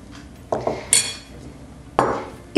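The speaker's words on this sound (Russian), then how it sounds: "как обычно, смешиваем творог" Cottage cheese being mixed with eggs in a bowl for syrniki, heard as a few distinct clinks and scrapes of a utensil against the dish, spaced irregularly and fairly close.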